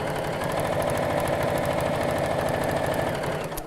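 Sewing machine stitching straight across the bottom of a fabric pocket on a caddy organiser, a close, steady rapid mechanical hum with even rhythmic ticking throughout, easing slightly at the end.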